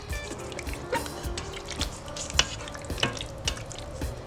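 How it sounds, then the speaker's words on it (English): Salt and pepper stirred into a pot of Kraft macaroni and cheese, a spoon squelching and clicking through the thick, sticky pasta in irregular close strokes, with soft wet smacks and no speech. "we're just going to stir this in together"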